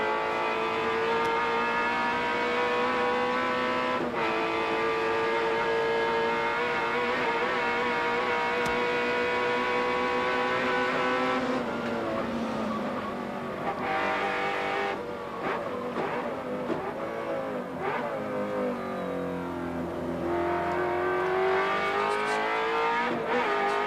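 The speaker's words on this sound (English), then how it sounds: "Just listen to that awesome V8." Touring car V8 engines racing at Bathurst in 1991, a steady loud onboard howl that shifts pitch through gear changes, then a second car blasts past, with brief tire noise and no talk.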